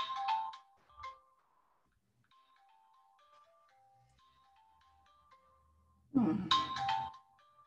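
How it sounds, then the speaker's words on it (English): A mobile phone ringtone plays a short melodic tune at low volume during a video call. Speech comes before it and after it. "Can you hear my phone ringing?"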